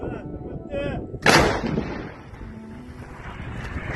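A single heavy artillery boom blasts out, loud and sharp, then rolls off into a windy outdoor rumble.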